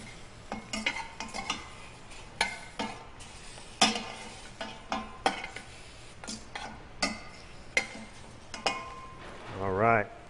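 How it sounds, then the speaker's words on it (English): Pork ribs tossed with brown sugar in a pan for Chinese pork ribs, giving a steady soft sizzle broken by repeated clinks and scrapes of a utensil stirring against the pan, with a brief voice-like rise near the end. "We're going to put a little bit of brown sugar in. And we'll toss that around."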